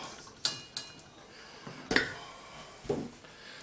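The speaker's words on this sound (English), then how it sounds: "I'm just going to strain this out really quick." Cooking oil from a Kung Pao chicken pan strained into a bowl on the side, marked by several sharp metal taps and clanks of a strainer and utensils against the bowl, spaced apart with no talking.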